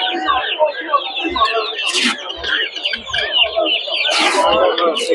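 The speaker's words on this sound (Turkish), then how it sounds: "Qəşəng xoruzlarımız var burada." Roosters crow and hens cluck at a busy poultry market, several birds calling close by with bursts of crowing amid steady clucking, while people talk throughout.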